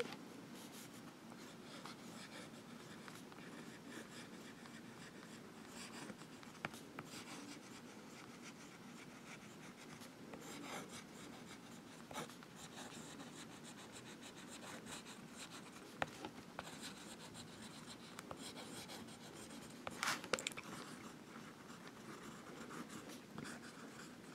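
A Baoer 801 fountain pen with a fine nib writing on paper, a faint steady scratching and rubbing of the nib with small strokes and pauses, close and quiet with no talking.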